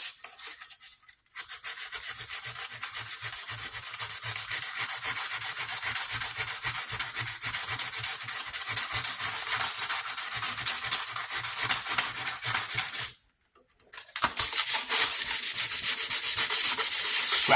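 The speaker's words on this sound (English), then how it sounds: "Scratching the chrome." Abrasive scuffing on the chrome front grill of a Lincoln Town Car makes a continuous, rapid back-and-forth rasping that runs for long stretches, stops briefly, then resumes slightly louder.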